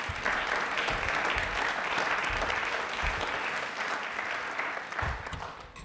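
A studio audience on a television quiz show applauds the Jaipur Metro team, a loud, even roar of many hands clapping continuously throughout.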